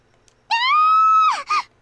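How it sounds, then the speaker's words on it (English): A woman's scream in the visual novel game World End Syndrome, a single sustained high-pitched cry of about a second, followed by a short gasping break, heard alone against near silence. "I dash out of my room after hearing Saya scream."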